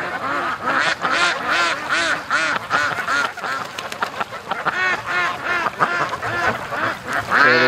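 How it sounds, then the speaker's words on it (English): Wild ducks mixing with domestic ducks on a lake let out a loud, near, continuous chorus of overlapping rasping quacks in rapid irregular bursts. "So the wild ducks are coming in to play with my ducks."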